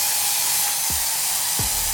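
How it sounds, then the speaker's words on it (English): Aerosol hair spray hisses in a continuous burst into the inside of a wig, steady and close, with a couple of brief thumps or shifts partway through. "Now I'm gonna spray on the inside of my wig."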